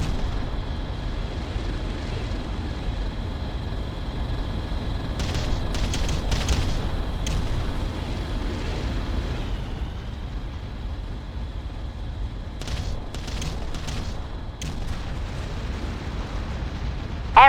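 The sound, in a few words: artillery bombardment explosions in video game Ground Control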